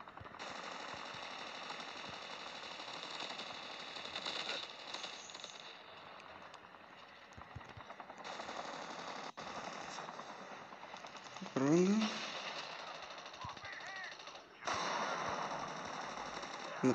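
Game gunfire in Call of Duty Mobile battle royale, dense mechanical rattling bursts under continuous game ambience, with brief voice-like sounds partway through.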